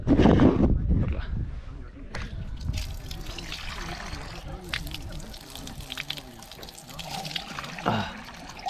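An outdoor drinking fountain on a walking path in Spain trickles and splashes steadily up close, with people talking over it.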